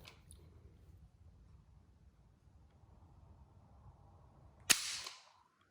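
Dry-fire trigger pull on a Marlin 336 lever-action rifle with the stock off, a single sharp metallic snap near the end after quiet handling noise.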